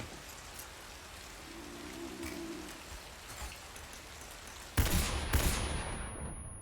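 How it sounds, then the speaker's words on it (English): Stun grenades go off in Metal Gear Solid 3 over rain-like ambient noise, with a sudden loud burst and crackling blasts near the end, close and harsh. "Dueling stun grenades."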